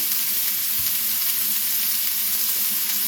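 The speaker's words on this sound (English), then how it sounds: "just to help sweat these vegetables down and make them nice and tender" Vegetables seasoned with salt and pepper sautéing in a pan, giving a steady, close, continuous sizzle with no talking.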